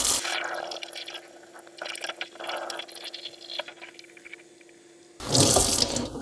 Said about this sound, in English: fill this once again with very hot water about halfway through